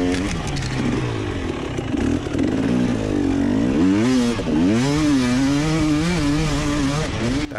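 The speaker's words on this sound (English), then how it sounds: "Back on the fire roads here in that Gas 300 EC." A GasGas 300 EC two-stroke dirt bike ridden along rocky fire roads, its engine revving and wavering continuously up close, rising and falling in pitch with throttle changes, with no talking.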